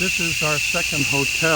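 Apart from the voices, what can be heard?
cicadas chorus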